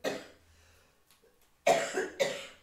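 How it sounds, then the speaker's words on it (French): Someone coughs: one rough cough fading out, then after a pause two sharp close coughs in quick succession. "on n'arrête pas de tousser"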